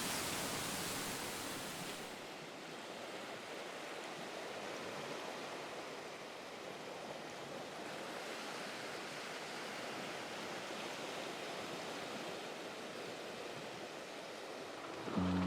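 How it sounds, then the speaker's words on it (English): Ocean waves crash along the shore beside a campsite in the Tordera Delta on Spain's windy coast, a steady broadband roar of surf that swells louder at the start and keeps rolling without a break, with no voices. "settled in close to the crashing ocean waves"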